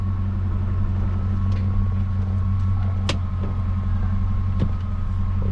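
The engine of a manual Holden SS Commodore runs steadily in gear with the rear wheels raised off the ground, a constant close drone with a few faint clicks and taps over it.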